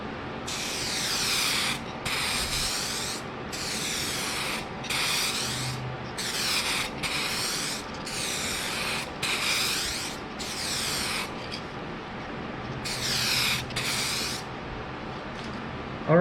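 A spray gun lays a wet clear coat onto a car headlight lens, giving repeated close, loud hissing bursts of a second or so each, separated by short pauses, with no talking.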